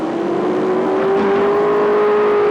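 Several late model race cars accelerate together out of turn 4 on an oval track after a yellow-flag caution, a loud, steady rising engine roar held close throughout.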